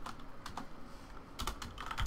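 Unix commands being typed on a computer keyboard, producing quiet, close, irregular key clicks in small clusters, with no talking.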